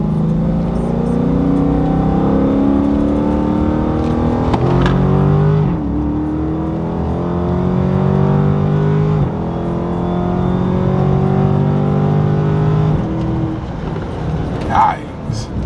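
A 500 hp Dodge Charger SRT 392 pulls hard through its gears with paddle shifters, its engine note climbing and dropping at three quick upshifts, heard from inside the cabin with voices talking over it.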